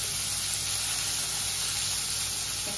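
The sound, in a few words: chicken soup cooking in a pot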